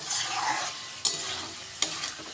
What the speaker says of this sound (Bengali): এবার সমস্ত মশলার সাথে না আমি এটাকে কষাতে থাকবো